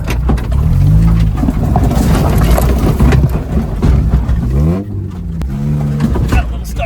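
A car running on vegetable oil in place of engine oil is driven through trees, its engine revving up and down in close, repeated surges while the body rattles and branches scrape against it.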